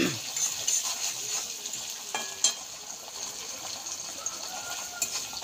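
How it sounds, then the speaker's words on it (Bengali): Onions fry in a pan with a soft, continuous sizzle and occasional light clatters, fairly quiet and steady. "পেঁয়াজটা না ভাজা হলে মশলাটা আমি দিতে পারছি না।"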